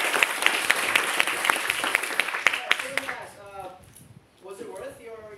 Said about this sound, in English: Let's give Kimbo a round of applause.